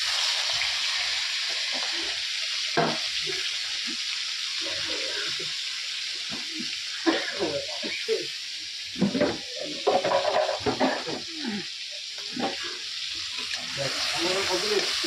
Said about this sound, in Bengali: এখন আমি কড়াইয়ের মধ্যে তেল দিয়ে দিয়েছি এক নুন তেলের মধ্যে দিয়ে দিয়েছি শুটকি মাছটা একটু ভেজে নেবো